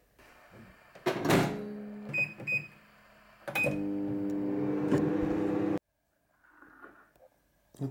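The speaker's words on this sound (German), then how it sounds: "das Ganze kommt jetzt in die Mikrowelle" Microwave oven heating milk, with door clunks and button beeps, then a steady loud hum running for a couple of seconds before cutting off abruptly, followed by faint rustling.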